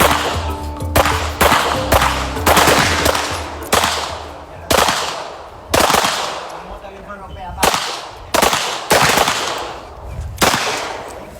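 Firearms fire close by in a rapid series of loud, sharp gunshot cracks, some in quick bursts and others as single shots with short gaps between them.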